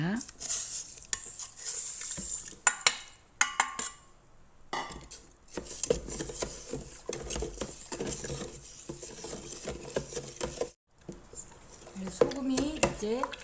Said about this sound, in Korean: 물 7리터에 소금 700g을 넣어서 잘 녹여주겠습니다